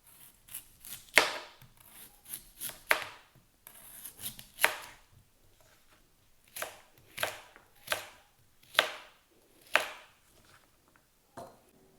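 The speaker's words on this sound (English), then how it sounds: "And slice up our beet." A knife slices a medium-sized beet on a board: about a dozen crisp, close chops come in uneven bursts with short pauses between, and no talking.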